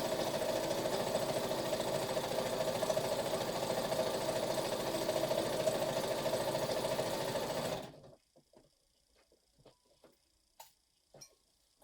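A sewing machine stitches fabric layered with polyester wadding, a loud continuous rapid whirring close by that stops abruptly after about eight seconds, followed by faint handling clicks and rustles.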